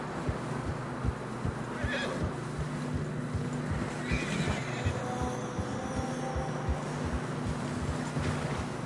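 In the video game Red Dead Redemption 2, a horse whinnies over steady, rhythmic clip-clop of hooves through fresh snow, with wind and a low background hum throughout.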